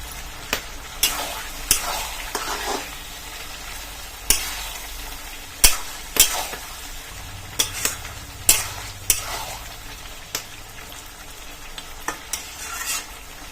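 Pieces of country chicken sizzle in a pan for red curry as a spoon scrapes and stirs, a low frying hiss punctuated by repeated sharp clanks and scrapes at an uneven rhythm.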